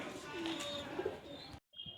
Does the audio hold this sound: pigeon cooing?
yes